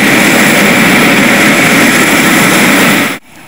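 L-410 airplane engines roar loud and close in a steady, dense drone at an airport, then cut off abruptly near the end.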